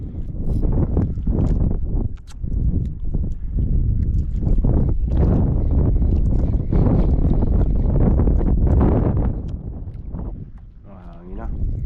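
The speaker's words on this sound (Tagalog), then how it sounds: "Hangin na." Strong gusty wind buffets the microphone on a small fishing boat at sea during a storm while ultralight casting. It roars and rumbles almost continuously, with brief lulls, as a person talks intermittently underneath.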